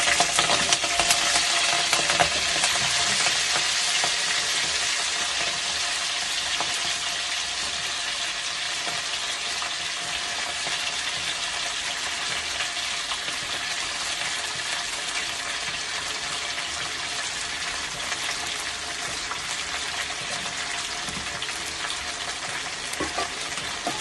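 Washed Malabar spinach buds fry in hot oil over a tempering, making a loud, continuous crackling sizzle with a bright hiss that stays steady throughout, with no voices.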